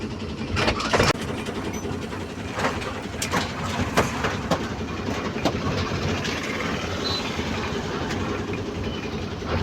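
A train rumbles steadily past over a bridge with rhythmic clatter and occasional sharp clanks, while birds chirp faintly in the background.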